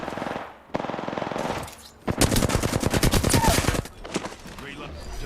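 Rapid, loud automatic gunfire from the video game Apex Legends rattles in a dense sustained burst through the middle of the clip, preceded by game sounds and voice-like tones, with quieter shots trailing off afterward.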